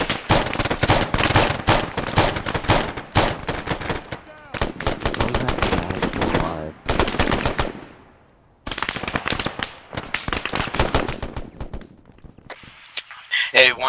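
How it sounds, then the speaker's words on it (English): Video game gunfire in Arma 3 during a military simulation firefight on a rooftop, with dense bursts of automatic weapon fire and single shots crackling continuously, loud and close, briefly pausing before resuming, with voices talking over radio amid the shooting. "I'm taking heavy fire"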